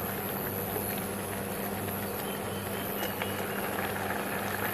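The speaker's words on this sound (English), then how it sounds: "Now it is boiling well." Water with vermicelli boils steadily in a pot on the stove, a dense, even bubbling hiss heard up close and alone, with no talk.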